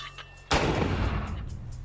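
A mortar fires once on a spring-cushioned mount, a sudden loud boom that follows a brief quieter lead-in and leaves a long rumbling decay.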